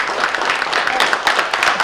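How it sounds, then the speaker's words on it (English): Applause from an event audience for a venture capital team member at an annual general meeting, a dense steady wash of clapping. "So I wanted to clap it up for Pat Bumpus."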